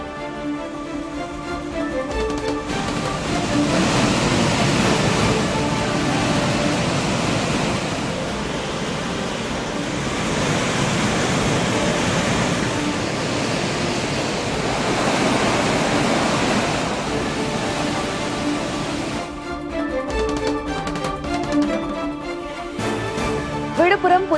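A steady roar of heavy rushing water fills the scene as the Kaveri river gushes over the Hogenakkal waterfall in high flow, broad and constant, fading slightly at the end.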